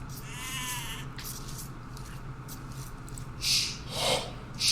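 A sheep bleats twice, fairly close, in an Age of Empires match on the Acropolis map, its calls rising over a steady bed of game ambience and faint chatter.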